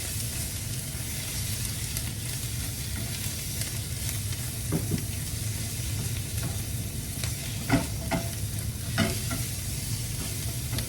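Basil pesto mixture stirred in a hot pan, a continuous close sizzle and bubbling hiss with a low hum beneath and a few sharper scrapes of the spoon near the end, no voices.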